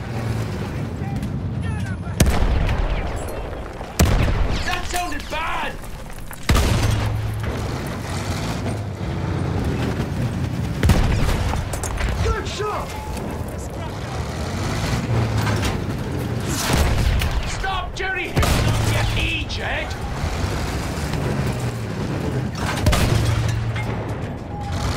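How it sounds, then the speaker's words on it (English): Artillery fire on a battlefield in Battlefield 1, heavy booms thundering at intervals over a constant rumble of engines and combat, loud and close, with shouting voices mixed in. "There are artillery out there!"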